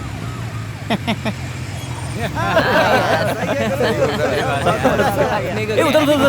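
An ambulance siren wails through busy road traffic, rising and falling under heavy engine noise while several people shout and talk over it nearby.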